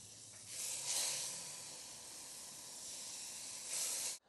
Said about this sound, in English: my barbecue's in desperate need of a good clean, but we're just going to sear these off